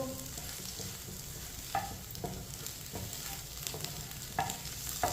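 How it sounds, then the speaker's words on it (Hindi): Eggs frying in a pan hiss softly as a spoon stirs and scrapes through them, with occasional light taps of the spoon against the pan. "चम्मच चलाते हुए। एक मिनट के लिए पका लिया अंडों को।"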